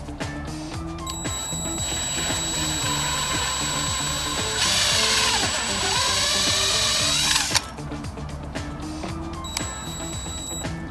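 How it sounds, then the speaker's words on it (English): A power drill whines steadily for several seconds, its pitch rising and falling as it bites into a wooden foundation post, then cuts off abruptly; close and loud. "So we're just drilling out a couple inches on this side"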